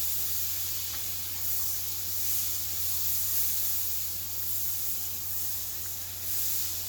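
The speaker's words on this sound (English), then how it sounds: "I have my oil heating up for frying the pork chops" Butter and oil sizzle in a frying pan while heating for fried pork chops, a continuous soft hiss holding steady with gentle swells, heard alone at moderate to low volume.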